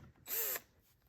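A powered 2.5 mm hex driver spins out a screw from the top cover of a Matilda unit in one short, close whirring burst of about a third of a second, with quiet around it.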